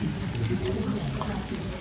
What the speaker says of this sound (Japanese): 鳥？ あ、鳥やね。